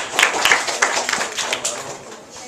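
Audience clapping at the close of a presentation, a dense, steady patter of many hands with faint voices mixed in, fading slightly toward the end.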